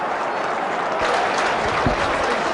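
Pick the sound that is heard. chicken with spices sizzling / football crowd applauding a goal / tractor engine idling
football crowd applauding a goal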